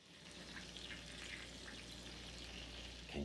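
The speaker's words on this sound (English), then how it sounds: "Can you hear that sizzle?" Baked salmon in a pan just out of the oven gives a faint, steady sizzle, with a brief clatter near the end.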